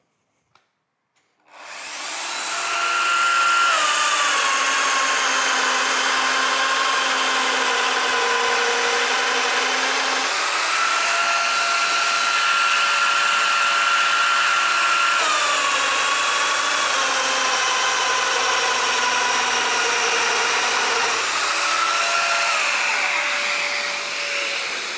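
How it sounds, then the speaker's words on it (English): Spinning up from silence, a dowel router mills dowel holes into wood as a loud, continuous high whine that shifts pitch slightly as it cuts, steady for over twenty seconds with no talk. "I'm now drilling into the splintering with the dowel router"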